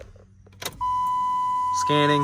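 An UltraGauge diagnostic gauge in a 5.3 S10 pickup gives a steady electronic beep lasting about a second when it finds the ECU, then shifts to a different tone, after a short spoken word.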